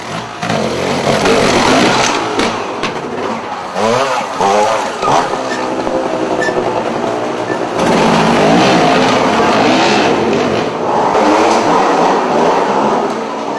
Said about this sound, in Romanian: Sergiu Grecu a ajuns până în studioul de la etajul 5 în șaua motorului.